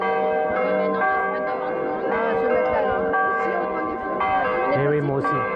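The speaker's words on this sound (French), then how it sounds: "les cloches ont démarré, on attaque la procession" Church bells ring before a procession in Nîmes, a rich overlapping peal of several bells sounding continuously at moderate distance, with voices of people nearby talking underneath.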